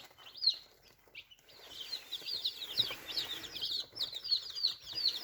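Baby chicks, a Rhode Island Red and a silver-laced Wyandotte, peep in rapid high chirps, repeated bursts close by with soft rustling and a brief flutter between them.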